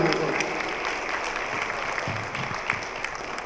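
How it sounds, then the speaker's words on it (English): Audience at a community forum on stopping gun violence claps steadily, a dense, even wash of applause that carries through the whole stretch without a break. "give them another round of applause for their volunteers"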